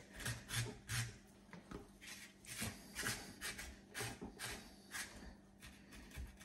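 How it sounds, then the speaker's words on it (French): A blade scraping leftover bristles off a half pig's head from a farm, a series of dry rasping strokes in uneven rhythm, close but soft, with no talking. "on va la gratter déjà pour enlever les poils qui restent"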